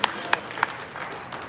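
Scattered clapping from a press-conference audience at a boxing fight week, a few sharp distinct claps standing out over a soft background of crowd noise.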